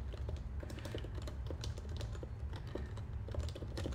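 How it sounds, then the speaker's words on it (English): Typing on a computer keyboard, a brisk irregular run of close, crisp key clicks that continues steadily with no talking. "Sorry, I'm typing very slowly today as well."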